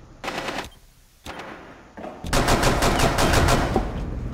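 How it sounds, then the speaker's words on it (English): Pistol gunfire in the video game Rainbow Six Siege: a few separated sharp bursts early, then a dense run of rapid shots, close and loud with no talk. "Oh wow, he's taking out everybody with a pistol."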